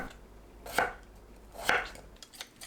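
A knife chops through potatoes on a cutting board, slicing half-moons about 0.6 to 0.7 cm thick, two distinct cuts about a second apart, then lighter taps. Close and clear, no talking.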